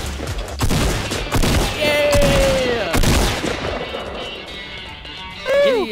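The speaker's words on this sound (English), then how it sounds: "Hey, you're still shooting." Rapid bursts of gunfire crack out in a Fortnite Battle Royale match, loud and close, mixed with game effects and brief squad voice chat.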